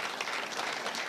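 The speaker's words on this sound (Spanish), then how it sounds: "Gracias por la buena intención de vuestros aplausos" An audience claps steadily, a dense, even patter of many hands filling a short stretch, fairly close and without voices.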